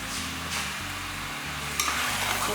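Grated coconut and mutton sautéed in a pan for Chettinad mutton chukka, giving a steady close sizzle with soft stirring scrapes and a low hum beneath, growing a little louder toward the end.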